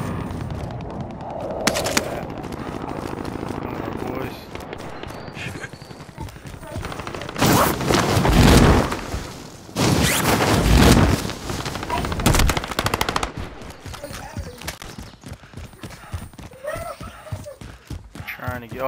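Rapid automatic gunfire bursts from a Call of Duty: Warzone match, loud bangs and rattling volleys coming in clusters with pauses between, while players talk over the shooting.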